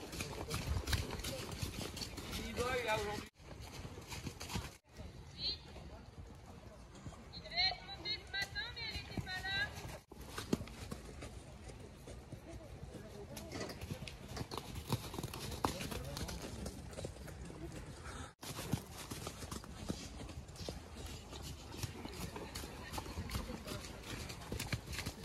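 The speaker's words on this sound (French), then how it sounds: "On entame la partie au trot" A mare trots during a jumping lesson, her hooves giving a steady, continuous clip-clop under constant wind and movement noise, with a few brief gaps.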